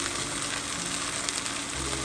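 Strips of meat and onion fry in a Dutch oven, giving a dense, steady, close sizzle with no pauses.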